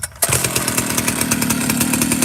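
A small two-stroke chainsaw runs steadily at a fast idle after its idle screw has been turned out a full turn, starting abruptly after a brief quiet gap and buzzing loudly and continuously with a rapid pulsing engine rhythm, no talking over it.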